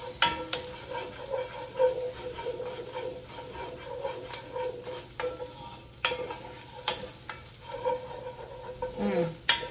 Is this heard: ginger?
yes